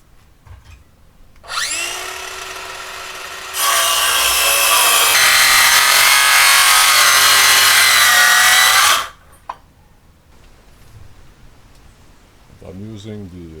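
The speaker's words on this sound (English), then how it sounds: "I'm using the jigsaw to make sure that the wood comes off nice and straight" A jigsaw saws through a 2x8 wood board, a loud sustained buzzing cut starting after a short pause, with a softer spin-up and then a heavier steady stretch lasting several seconds before stopping abruptly, followed by quiet handling noise.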